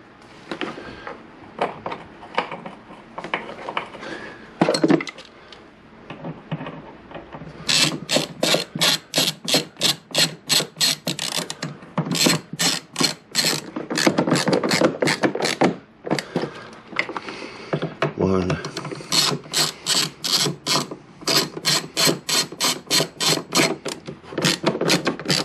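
A ratchet driver with a T20 Torx bit turns screws while fitting the rear seat and passenger grab rail on a Peugeot Django scooter: fast, crisp ratchet clicks come in repeated close-up bursts with short pauses between them.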